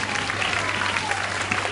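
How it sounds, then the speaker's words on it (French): Warm crowd applause at a sea lion show in an amusement park arena, steady and moderately distant, with a low hum underneath and faint voices mixed in. "On le raccompagne sous le chaleureux applaudissement"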